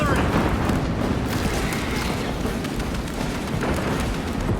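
Heavy artillery barrage in Warhammer 40k: Space Marine 2, a continuous rumbling roar of distant booms and blasts layered over battlefield noise, with shouted voices mixed in throughout.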